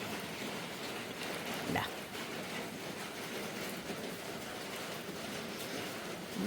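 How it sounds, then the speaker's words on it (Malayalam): Heavy monsoon-style rain falls as a dense, steady hiss that stays constant throughout, loud and enveloping, with no distinct voices. "നല്ല മഴയാണ്."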